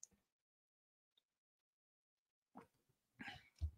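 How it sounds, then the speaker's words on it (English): A person coughs during a talk on scripture, with a quiet stretch followed by a few close, harsh bursts near the end. "I'm a little coughing."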